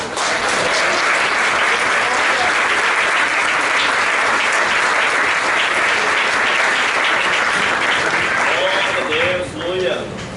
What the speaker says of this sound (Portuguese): Com os palmas bem alegres para o Senhor Jesus nessa noite